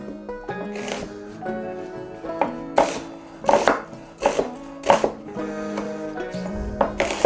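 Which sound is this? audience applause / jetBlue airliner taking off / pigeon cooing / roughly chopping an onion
roughly chopping an onion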